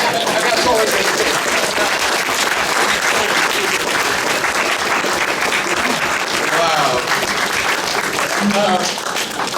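A memorial gathering in Toronto breaks into continuous, dense applause from a crowd, loud and steady throughout, with voices faintly underneath.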